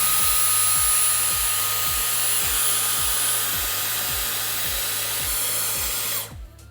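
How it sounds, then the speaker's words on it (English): A handheld blow dryer drying hair indoors, a loud steady whirring airflow with a rhythmic low pulsing, close by, cutting off abruptly near the end. "obviously this is just a blow dryer"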